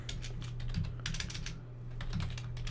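Fingers type quickly on a computer keyboard, a steady close patter of key clicks with brief pauses between bursts and no voices.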